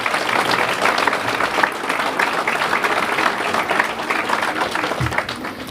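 Crowd applause at a mayor's New Year ceremony in Seclin, a dense, steady clapping from a large audience in a hall, sustained for several seconds.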